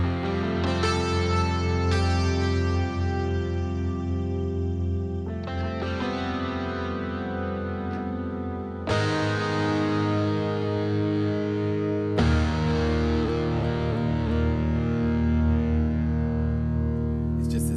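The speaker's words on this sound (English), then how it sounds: "There's here's Firebird with the reverb" A Firebird electric guitar runs through a MegaMagic reverb effect, giving loud, distorted, sustained chords that ring continuously with a few sharp re-attacks and a washy reverb tail.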